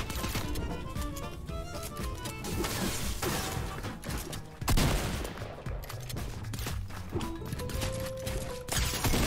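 Shotgun and USP pistol gunfire in a video game, with dense, continuous shooting and cracks running throughout over game sounds and music.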